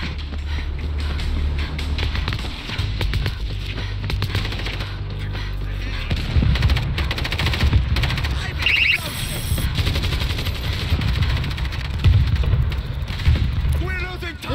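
A mounted turret fires in the zombie shooter World War Z: sustained, loud rapid-fire bursts with heavy low rumble run continuously, with game effects layered over it.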